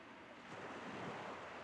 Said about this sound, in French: le bruit des vagues augmenta